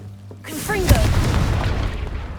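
A Confringo fire spell blast in Hogwarts Legacy: a sudden deep boom with a crackling, rumbling tail that lingers under game ambience.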